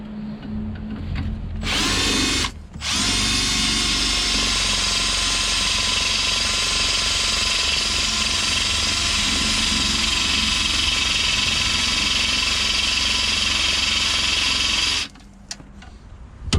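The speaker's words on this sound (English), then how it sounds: "So I'm gonna try and drill them out now." A power drill drilling out rivets on a Vauxhall Corsa C whines steadily at high speed for a long stretch after a brief start-stop, its loud grinding tone holding until it cuts off near the end.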